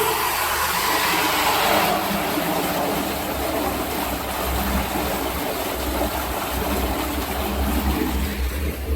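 A steady machine whir from a 1000-liter vacuum emulsifying mixer running its water tank mixing function, with a broad, hissing, rushing tone and a low hum underneath, continuous and close, with no speech.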